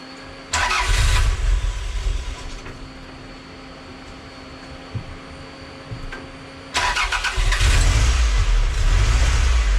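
A Toyota Celica engine being started, with a cold start injector fitted, sounds from inside a garage: a loud burst of cranking and firing, a drop back to a steady rumbling idle, then a second loud surge near the end.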